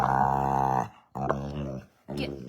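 A Great Dane named Congo growls in long, low rumbling bursts, three close and fairly loud phrases separated by short pauses.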